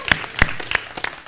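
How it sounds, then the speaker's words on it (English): A small studio audience gives a sparse round of applause: five or six distinct, separate claps spread unevenly across a quiet background. "We'll get a big round of applause"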